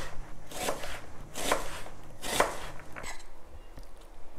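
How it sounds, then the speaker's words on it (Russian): A kitchen knife slices an onion into half rings while preparing chicken for the oven. Three crisp, evenly spaced cuts sound close up, followed by a quiet pause. "Лук нарезаем полукольцами."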